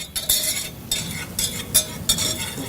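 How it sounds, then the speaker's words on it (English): Flour and milk being stirred in a pan, a series of quick scraping strokes of a utensil against the pan surface in an uneven rhythm, close and fairly loud, with no talking. "Stir a little bit more"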